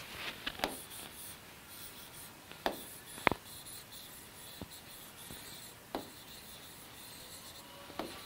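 Handwriting on paper during a science lesson gives a soft scratchy rubbing with scattered sharp taps as pen strokes begin and end, close and fairly quiet, with no talking.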